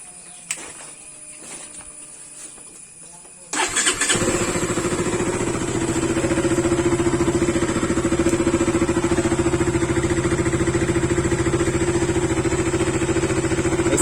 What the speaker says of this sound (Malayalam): ഞാൻ സ്റ്റാർട്ടാക്കി കാണിച്ചു തരാം